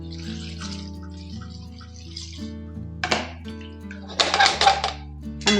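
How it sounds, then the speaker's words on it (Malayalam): Vegetable cooking water pours into a pot for Kerala sambar, heard as a few short splashing bursts over a quiet background with faint steady hum. "കഷ്ണം വെന്തിട്ടുള്ള വെള്ളം ഒഴിച്ചു കൊടുക്കാം"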